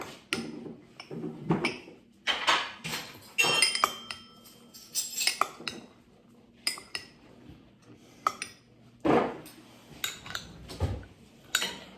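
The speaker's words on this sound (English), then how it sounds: "just give it a bit of a stir around. Mix mix it up a bit" Pasty meat mixture for Cornish pasties is stirred in a bowl with a utensil, producing a busy run of close clinks, scrapes and knocks against the bowl, loud and irregular with short gaps.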